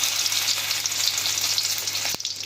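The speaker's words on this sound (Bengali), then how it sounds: "এতে সরষের তেল দিয়ে তেলটাকে খুব ভালোভাবে গরম করে নিলাম। এতে এবার কেটে রাখা পেঁয়াজগুলো দিয়ে দিচ্ছি।" Sliced onions frying in hot mustard oil in a kadai, a dense continuous sizzle with a steady low hum beneath, close and loud, with a brief clatter near the end and no talk.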